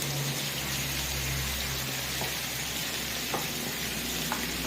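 Ginger fries in a pan with a steady, close sizzle that hisses evenly throughout, with a few faint clinks.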